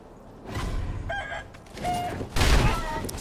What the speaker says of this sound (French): Il y a un coq sur mon point de sauvegarde.